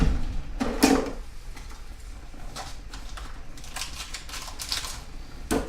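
Scissors or a knife crinkles and snips through the plastic wrapping of a beef sausage package in a home kitchen, a few sharp close clicks and rustles, then quieter handling.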